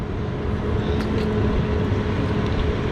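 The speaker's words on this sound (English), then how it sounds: "Now I have my fan going." An electric fan runs with a constant broadband whooshing roar and low rumble, steady and close, no voices.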